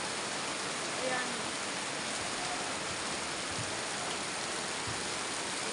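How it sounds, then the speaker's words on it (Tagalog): Heavy rain pours down in a dense, unbroken hiss of steady, fairly loud downpour beside an indoor basketball court, with no pause in the noise. "Ang lakas pa ng ulan."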